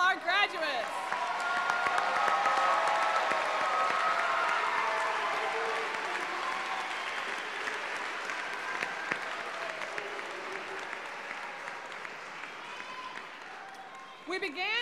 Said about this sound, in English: Let's get another round of applause for all our graduates.